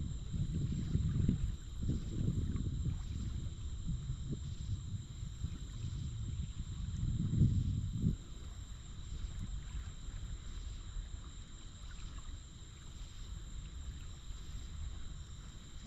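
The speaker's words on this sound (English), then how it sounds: "the wind is actually picking up a little bit now" Steady wind on a lake at night, a low broadband rush with gusty swells near the start and around the middle, continuous and fairly soft, with faint water movement and a steady high whine in the background.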